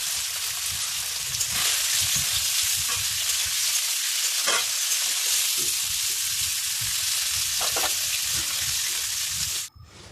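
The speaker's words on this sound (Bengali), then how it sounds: "প্রথমে আমি পনিরগুলো ভেজে নেব। এই দেখুন তেলের মধ্যে দিয়ে দিলাম।" Paneer pieces, plain with no salt or turmeric, fry in hot oil with a steady, dense sizzle that runs loud and close throughout and cuts off sharply near the end.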